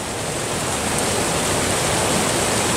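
A very tall waterfall at a forest's edge on a wild coast plunges over a cliff into the beach below, giving a loud, steady, close rushing roar with no voices.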